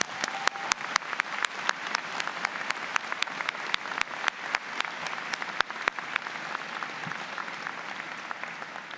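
Audience applause at a university convocation ceremony, steady crowd clapping with distinct individual claps standing out, continuous and fairly even throughout at moderate volume.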